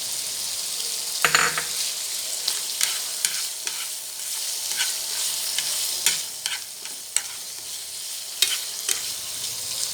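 Okra and pork spleen stir-fried in a pan, a steady sizzle broken by repeated scrapes and clinks of a utensil against the metal, close and fairly loud throughout.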